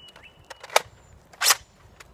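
A Blastermodshop Alpha Trooper toy blaster fitted with an orange upgrade spring fires two sharp, snappy shots about three-quarters of a second apart, close and fairly quiet, with faint clicks and handling noise between them.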